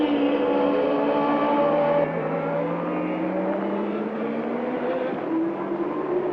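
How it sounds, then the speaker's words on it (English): 1983 Formula One cars race at the Canadian Grand Prix, a loud sustained high-pitched engine whine with shifting pitch, as from cars passing and accelerating along the circuit, with no talk in between. "Keke Rosberg coming up to complete lap 62 out of 70 in 4th place"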